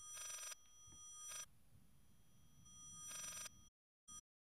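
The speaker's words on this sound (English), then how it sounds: "This is the most annoying phone ring, by the way." Telephone ringing in a video game, shrill electronic ring bursts repeating in separate pulses over a low hum, then cutting off abruptly.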